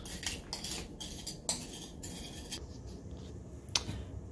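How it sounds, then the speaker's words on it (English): The back of a metal spoon crushes lavender against a dish, producing a series of short scraping, grinding strokes and a couple of sharp clinks, close and fairly quiet, with no one talking. "I just take the back of a spoon and I crush the heck out of it"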